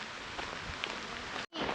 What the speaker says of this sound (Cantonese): 嚟到石屎路先落大雨